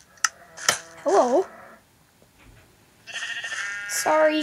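Game-style sheep bleats in a video game cow pen, a wavering two-part bleat near the start, then sustained tonal game sounds, with a voice speaking over parts of it.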